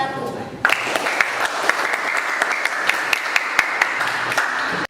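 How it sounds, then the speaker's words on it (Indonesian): A classroom group applauds Group 1, breaking into loud, dense clapping that starts suddenly and holds steady for several seconds. "beri aplaus kepada kelompok 1"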